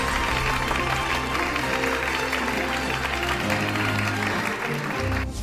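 An audience at a copyright forum applauds in a dense, continuous wash of clapping that holds steady for several seconds, with a low background hum beneath.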